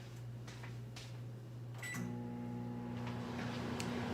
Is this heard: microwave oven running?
yes